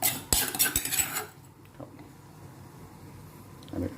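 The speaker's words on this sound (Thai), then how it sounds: "แล้วก็คนให้เข้ากันครับ" Metal spoon scraping and clinking against a pot while stirring pounded chili paste into a catfish steaming mixture, a burst of close clattering strokes that fades to near silence, then a brief scrape at the end.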